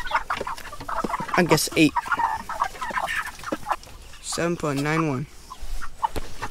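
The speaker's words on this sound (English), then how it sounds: "We're going to weigh a chicken to see how heavy these things are." A Cornish Cross broiler chicken clucks and squawks while being weighed, with loud close bursts and one drawn-out squawk near the end, mixed with a person talking briefly between the calls.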